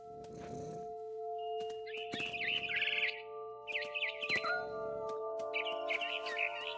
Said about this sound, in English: All I cared about was eating that mama bird.